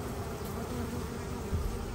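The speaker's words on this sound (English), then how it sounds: "now we can shake all these bees into that box" Swarm of honey bees buzzing steadily around a natural, non-standard hive, a dense continuous drone close by with no talking.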